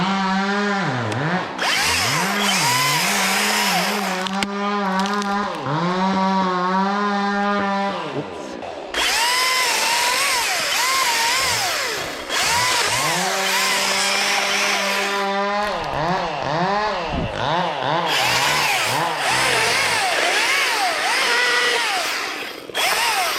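An Echo DCS 2500T electric top-handle chainsaw whines loudly in repeated bursts as it cuts into a tree, each rising and falling in pitch with short pauses between cuts.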